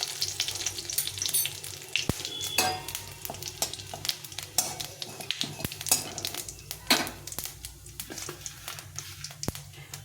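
Dry red chili and cumin seeds tempering in hot oil in a kadai, a quiet crackling sizzle with scattered sharp pops and occasional clinks of a spatula against the pan, no talking.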